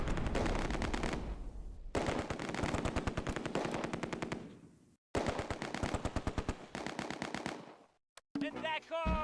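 MG42 machine gun fire in the Close Combat war game at Arnhem Bridge, loud rapid bursts of shots broken by short pauses, then a brief trailing sound at the end.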